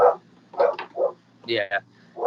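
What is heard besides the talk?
dog barking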